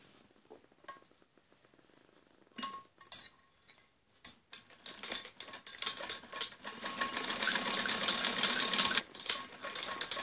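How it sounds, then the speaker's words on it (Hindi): A sewing machine stitching around the neckline of a padded blouse, starting with light clinks and sparse stitches, then running in a rising, steady whir that grows louder and denser, close by with no voices. "जैसे कि हमने इस गले पे सिलाई लगाई"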